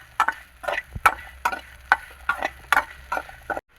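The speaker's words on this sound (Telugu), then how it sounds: "పన్నీరు నెయ్యిలో వేగుతుంటే స్మెల్ వస్తుందండి" Paneer frying in ghee, giving bursts of crackling sizzle that come and go at a rapid, uneven rhythm, close up and fairly loud, with no voices.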